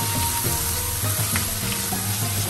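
Beef sizzling in sesame oil in a wok, a steady crackling fry with soft scraping and stirring knocks, close and moderately loud.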